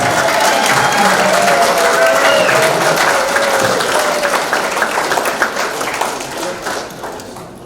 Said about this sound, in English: I'll keep that applause going